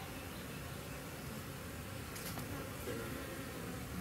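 Honey bees buzzing densely and continuously around an opened hive while nucs are installed, a steady, close swarm hum with no pauses.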